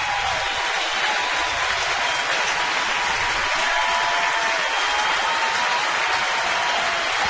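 A ballpark crowd applauding as Chase Utley steps up to bat at a Dodgers–Phillies game, a dense, steady wash of distant clapping and crowd noise filling the whole stretch without letup.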